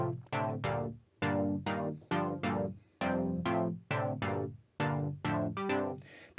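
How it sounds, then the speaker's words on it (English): A synth driven through Decapitator distortion with heavy drive but a reduced mix, playing a choppy chord pattern of repeated stabs that swell and decay, warm and gritty but not harshly distorted, with no voices. "Then we are going into the Decapitator, which is a distortion unit. So I'm pushing the drive rather a lot."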